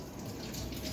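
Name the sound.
weak water flow from kitchen tap while rinsing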